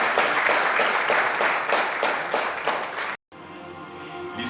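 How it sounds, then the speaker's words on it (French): An audience at a church anniversary gala applauds warmly, dense clapping that swells in waves for about three seconds, then cuts off abruptly into a quieter room tone. "Je vous applaudis."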